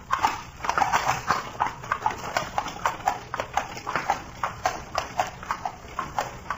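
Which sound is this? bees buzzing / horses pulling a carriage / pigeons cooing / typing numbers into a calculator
horses pulling a carriage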